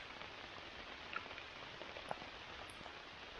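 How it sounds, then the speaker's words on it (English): Steady rain falls at a dry swamp campsite, a dense, even patter with a few sharper drops standing out close by, and no voices. "now it's raining harder"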